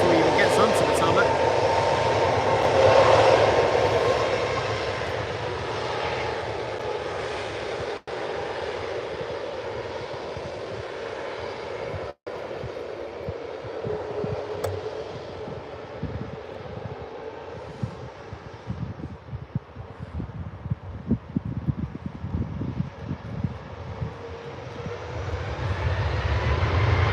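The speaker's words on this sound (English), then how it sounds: "This will be a turn on, roll and take off, I assume. Powering it now before he even gets onto the tarmac." An airliner at Birmingham airport powers up and rolls for takeoff, its engine roar loud and steady and slowly fading, while someone talks over it.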